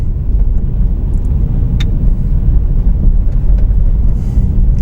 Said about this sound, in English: I shifted into a higher gear now to try and get some of that traction back.